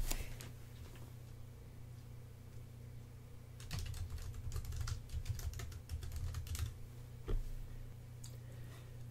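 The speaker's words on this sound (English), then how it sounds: "I'm going to type some text." Quiet, close typing on a computer keyboard, with scattered clicks at first, then a denser run of rapid keystrokes and a few final taps, over a faint background hum.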